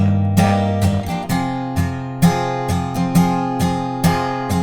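Clean acoustic guitar strums the chords of the verse of a song, in steady down strokes with bright ringing attacks, close and clear with no voices.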